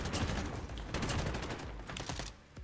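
Rapid, dense automatic gunfire from the video game Modern Warfare, loud bursts crackling almost nonstop with no talk over it.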